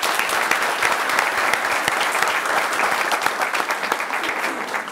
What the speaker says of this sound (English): I was going to ask that we give Tommy a round of applause for his service